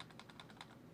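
Rapid typing on a computer keyboard at a broadcasting workstation, a quick run of about eight even keystrokes over steady background hum, close and moderately quiet.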